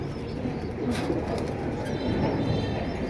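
Soft cooing of a young pigeon among a seller's pigeon collection, over a steady low background rumble, with a few faint higher chirps.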